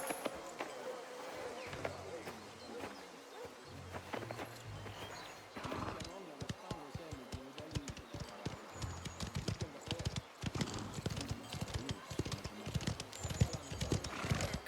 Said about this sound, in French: Allez, on remonte sur le cheval.